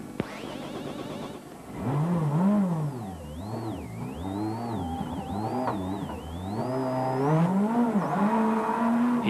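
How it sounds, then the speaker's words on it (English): A Peugeot 206 WRC rally car stranded off the road during the 2003 World Rally Championship, its engine cranked and revved repeatedly, rising and falling in wavering bursts over a steady hiss of crowd or wind. "now he struggles to restart the engine of his stranded 206"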